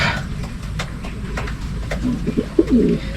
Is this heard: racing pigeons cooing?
yes